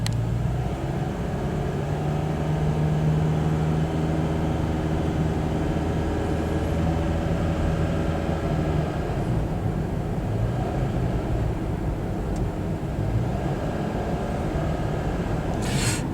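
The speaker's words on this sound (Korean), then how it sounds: "고 RPM에서만 나는 엔진 소리예요." A Toyota Vitz engine held at high RPM, giving a harsh, steady drone that runs continuously and fairly loud with no talking over it.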